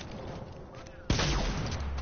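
A single sharp gunshot in an online shooter game, a sudden loud blast with a rumbling tail about midway, preceded by quieter game ambience and faint voices.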